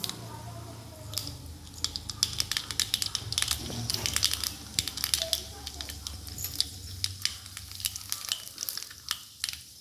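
Tempering sizzling in oil for ven pongal, a close crackling, popping fry with irregular bursts of spattering and stirring that thin out toward the end, with faint background voices.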